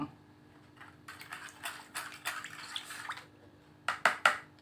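Mixed water is poured into rice-bran fish bait for tilapia, faint trickles and splashes ending in three louder sloshing pours close by.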